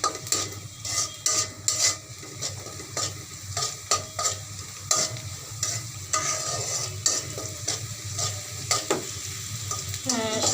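Onions with salt sizzle in a pan for a radish and fish-head curry while a spatula scrapes and stirs in frequent rasping strokes, close and fairly loud, with no talking.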